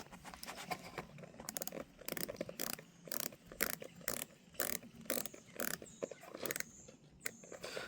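An Edox Skydiver Neptunian dive watch bezel being turned, giving a dense run of crisp, close ratcheting clicks in quick irregular bursts with brief pauses, with no talking.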